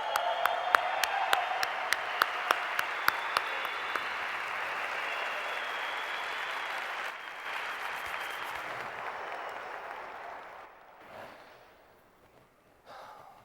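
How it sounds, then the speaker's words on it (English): Audience applause fills a conference hall, steady and moderately loud with a few sharp individual claps near the start, holding for about ten seconds before thinning out and fading to near silence. "give yourself a round of applause"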